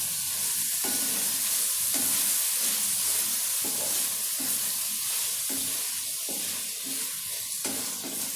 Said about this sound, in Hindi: अब इसमें टमाटर और हरी मिर्चें डाल देंगे और इन्हें अच्छी तरह मिक्स करेंगे।